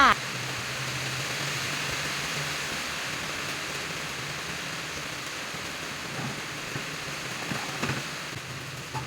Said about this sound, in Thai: อ้าวฝนมาแล้วจ้า